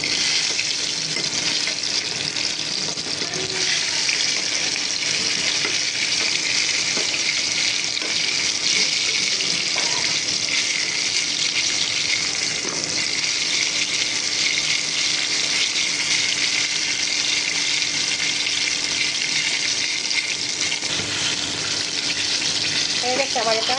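Chicken pieces fry in hot oil for a crispy chicken fry, a loud, continuous close-up sizzle and crackle that holds evenly throughout without pause.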